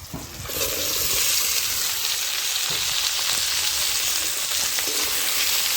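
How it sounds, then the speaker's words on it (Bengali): Chopped tomato and small potatoes drop into a hot pan of shrimp with bay leaf, and a loud, steady sizzle of frying takes over after a brief quieter start and continues evenly. "টমেটো কুচি, দিয়ে দিচ্ছি আলু"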